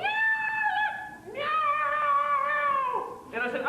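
A human voice imitates a screaming cat, giving two long, drawn-out, high-pitched wailing meows close up, with a short gap between them and the start of a third at the end.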